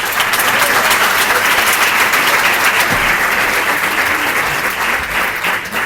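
An audience at an indoor event in Elche claps in sustained, dense applause that stays loud and even from start to finish, with no voices standing out.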